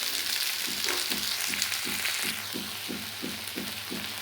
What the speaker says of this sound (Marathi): कांदा ट्रान्सपरंट होईपर्यंत आपण हे जरा त्याला गोल्डन ब्राउन कलर येईपर्यंत परतून घेऊया